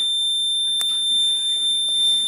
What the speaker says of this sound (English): when the water level reaches both the tip the alarm starts